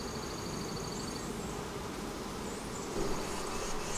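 Honeybees swarm around an open beehive, a dense, steady, close buzzing drone that holds throughout with no talking.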